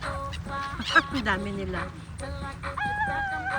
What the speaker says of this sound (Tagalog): Ang galing sumalo ng mga ibon.